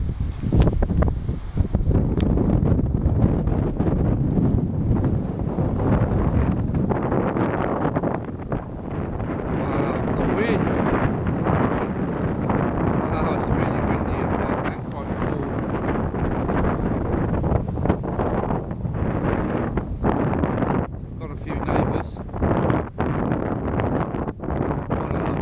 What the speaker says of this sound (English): It is quite windy, but I'm sheltered by these rocks